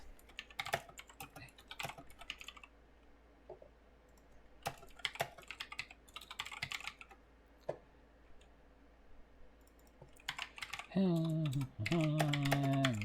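Computer keyboard typing comes in uneven bursts of quick clicks with quiet gaps, close and moderately loud, and a voice briefly sounds near the end.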